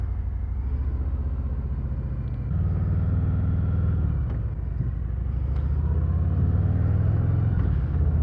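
Harley-Davidson Revival Hydra Glide motorcycle with a 114 Milwaukee-Eight engine, ridden on the road: a steady, loud low engine rumble and exhaust drone that rises a little as the bike pulls away.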